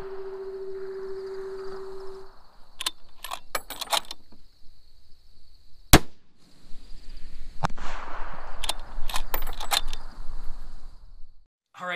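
Several sharp .308 rifle shots fired at long range through a Sig Sauer Tango 4 6-24x50 scope, loud isolated cracks spread across the stretch with mechanical handling clicks between them and a steady high whine in the background.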